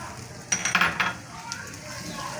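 A utensil scrapes and clinks against a pan while leftover masala gravy for Patiala chicken is stirred in, a quick run of metallic knocks over a low background hiss.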